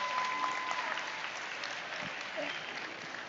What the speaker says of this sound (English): give a round of applause for Carolyn and Rue and the rest of the company.